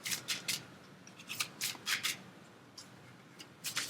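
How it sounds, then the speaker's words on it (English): Oracle cards being shuffled by hand in quick, crisp bursts of riffling and sliding, close and quiet, with short pauses between strokes and no talking. "I'll shuffle now."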